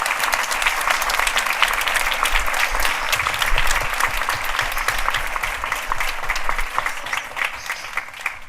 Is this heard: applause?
yes